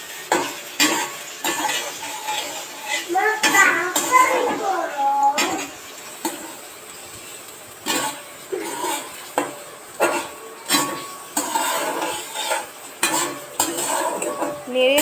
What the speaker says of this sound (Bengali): পেঁয়াজ, রসুন, মরিচ কুচিগুলিকে সুন্দর করে ভেজে নিব।